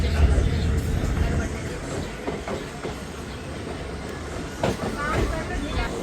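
Passenger train 54552 pulls away from Kauli railway station, its rumble and rattling wagon clatter building steadily, with someone talking over the noise.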